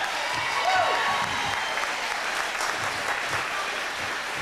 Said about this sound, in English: Let's give a big hand to Tony the Sound Man.